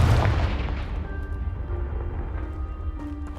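A Confringo fire spell blast in Hogwarts Legacy strikes a pile of debris blocking a stairwell: a loud booming burst with a rumbling low-end tail that slowly fades, no talking.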